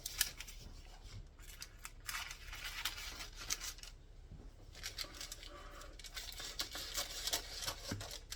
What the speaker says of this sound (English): And I'm going to cut from the corner of the paper to the corner of the pan.